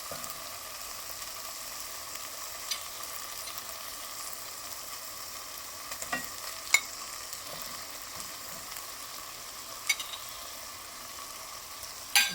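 Fried prawns being stirred into a tomato biryani masala in a pan, giving a steady low sizzle throughout with scattered scraping clicks of a spoon, a few louder knocks near the end, and no talking.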